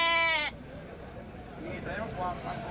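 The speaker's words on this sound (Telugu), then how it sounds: "గొర్రెలు అయితే ఉన్నాయండి, పిల్ల గొర్రెలు," A loud lamb bleat opens the clip at a sheep and goat market in Kadiri, harmonic and wavering, then cuts off to a low murmur of voices and background noise.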